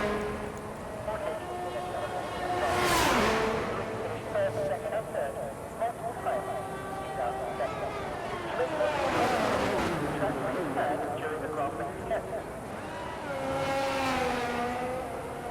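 A race car in an Xbox racing game on its flying lap at Bahrain, with a steady, continuous engine drone whose pitch climbs and falls through gear changes, swelling into three louder high-revving surges spread across the run.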